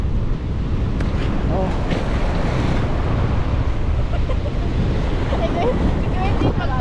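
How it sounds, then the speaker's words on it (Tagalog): Fast-flowing water and waves churn during a typhoon, a loud continuous roar mixed with heavy wind buffeting the microphone, with faint voices in the background. "Bilis! Bilis na tubig!"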